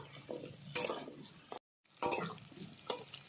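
A whole large potato frying in a pan, a soft steady sizzle with a few sharper crackles and stirring scrapes, close and fairly quiet, broken by a brief silent gap.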